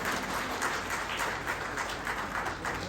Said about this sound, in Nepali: उहाँलाई पनि ताली बजाएर हामी सबैले धन्यवाद दिन्छौँ